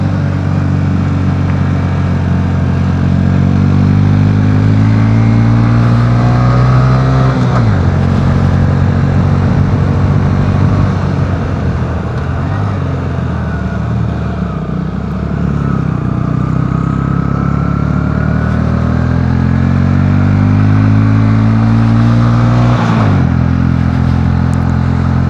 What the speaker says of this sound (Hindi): तो सेकंड गियर में बाइक चढ़ाओ तो बाइक आराम से चढ़ जाती है